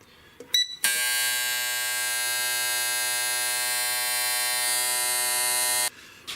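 Fuel injector flow testing machine running on stock LS truck injectors, a loud, steady electric buzz with strong harmonic hum that starts abruptly after a few clicks and cuts off sharply about five seconds later.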